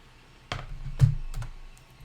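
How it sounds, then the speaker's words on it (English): Keys pressed on a computer keyboard during a PC build, a few scattered clicks and taps at moderate distance, fairly quiet, with no talking. "So the keyboard's working."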